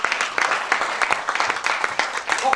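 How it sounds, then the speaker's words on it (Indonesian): A church congregation applauds in a steady burst of close, dense clapping that fills the short moment without pause. "Tepuk tangan bagi Tuhan"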